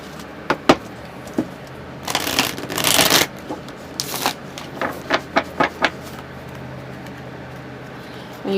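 A Tarot de la Nuit deck is shuffled by hand, giving sharp card riffles and sliding bursts, followed by a quick series of crisp taps as the cards are squared, heard up close and alone.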